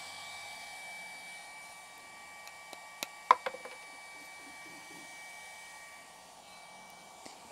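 A TwoTrees TS2 laser cuts through 20 mm thick wood, making a faint, steady airy hiss like a blower, with a few soft crackles and ticks around the middle.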